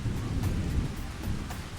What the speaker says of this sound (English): It's still raining even though it has a cloud.